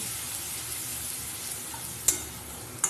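Prawn chop curry sizzling steadily in a pan just after water is added, a soft continuous fry with two sharp clinks of a spoon against the pot near the end.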